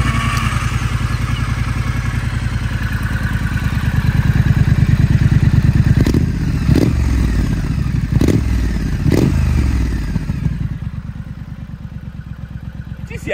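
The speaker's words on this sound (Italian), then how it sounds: "Si viaggia a circa 110 km orari, intorno ai 4000 giri motore, ed è tutto arricchito da un sound brillante e corposo" A 2021 Triumph Street Scrambler 900 with a Euro 5 engine cruises at about 110 km/h and around 4000 rpm, giving a steady, full-bodied engine drone with wind rush. Several dull thumps and clatters break in partway through.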